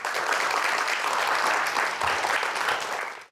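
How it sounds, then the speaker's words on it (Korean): A studio audience applauds to welcome a guest onto a television talk show, a dense, steady burst of clapping from many hands that holds evenly and then cuts off, with no voices over it. "큰 박수로 환영해 주세요"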